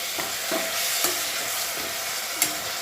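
Boiled broad bean pieces fry with onions in a hot pan, giving a steady loud sizzle broken by a few stirring scrapes and clacks.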